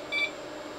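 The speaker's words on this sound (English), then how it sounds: "It's beeping." A server beeps once during boot after being powered through an 8-pin to double Molex cable, a short electronic tone over a steady fan hum.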